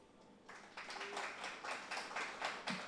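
An audience at an evening panel talk on residential mobility in Port-au-Prince applauds, with faint scattered clapping that swells into a steady patter of many hands, fairly quiet and without speech.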